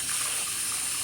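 Lukewarm water runs in a steady, even gush for yeast dough, filling a container with a continuous bright splash and no voices.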